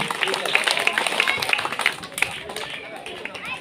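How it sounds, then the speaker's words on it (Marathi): Audience at a school Independence Day prize ceremony claps, a moderate round of applause under a loudspeaker voice and whistles, fading toward the end. "एकदा जोरदार कैलासाठी टाळ्या होत्या"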